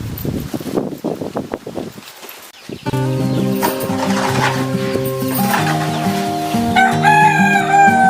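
A rooster crows a few times in a rural farmyard, close and fairly loud, for the first few seconds. Then steady music comes in and covers the rest.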